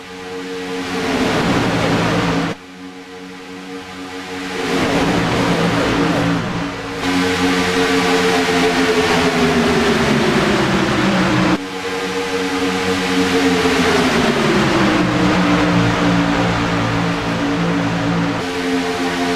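A pack of race cars circulates at Daytona, their engines droning loudly in layered pitches that sweep up and down together, with brief drops as the pack passes and a steady roar throughout.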